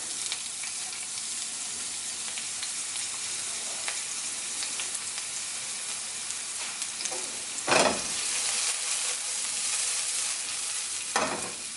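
Leeks fry in hot oil on a stovetop with a steady close sizzle and hiss, broken by a couple of louder bursts when the pan is stirred.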